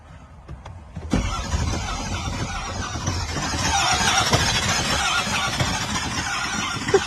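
A new GM truck with about 9,000 miles cranks but fails to start: after a faint clicking, a loud sustained starter whir with squealing grind runs several seconds, nearby and alone.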